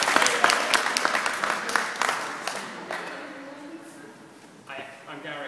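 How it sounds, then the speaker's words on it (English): Audience applause for a speaker named Gary at an active lifestyle centre in Manchester, lively and close at first, then fading over a few seconds into quieter room noise with a voice at the end. "So, a round of applause for Gary."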